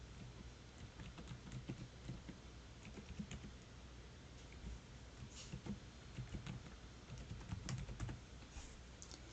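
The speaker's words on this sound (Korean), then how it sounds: "메일 주소를 입력해 보도록 하겠습니다" An email address is typed on a computer keyboard, giving a quiet, steady patter of irregular key clicks with small pauses, heard alone at low level.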